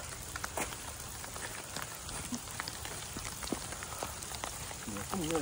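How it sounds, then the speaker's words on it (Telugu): Rain patters steadily over a farm in Telangana, a dense close hiss of drops striking surfaces, with scattered louder taps and faint background voices. "వర్షం పడుతుంది"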